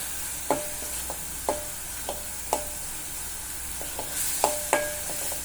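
Ground spice paste sizzling in hot oil for Konkani godi dal (varan), with a steady soft fry hiss broken by several sharp scraping stirs of a spatula against the pan, close and clear, no talk.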